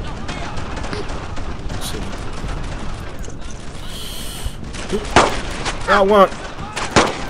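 Gunfire in the World War II video game Brothers In Arms: Earned In Blood crackles in scattered bursts and single shots with distant booms, while someone speaks briefly over the battle.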